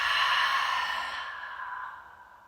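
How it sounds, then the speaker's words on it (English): One long, slow breath pushed out through an open mouth during a beginner yoga class, a close, airy whoosh that starts strong and gently fades away. "Open the mouth, exhale"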